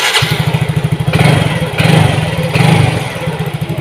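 A Yamaha Mio GT scooter engine runs just after its fuel injector was replaced, a close, steady low putter that swells in three or four brief revs before settling back.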